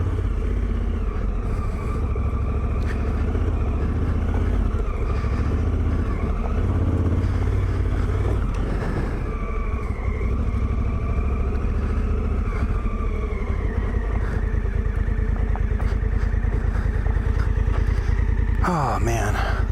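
A Honda Africa Twin motorcycle cruising, its engine droning steadily and close with wind rush, while a rider talks over it.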